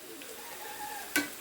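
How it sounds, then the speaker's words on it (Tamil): Cauliflower chilli fries in a pan with a soft, continuous sizzle, ending in one brief, sharp scrape of stirring close by. "நல்லா வேக வேக இந்த மாதிரி பிரட்டி விடுங்க, அப்போ தான் நல்லா முருகலாகும்"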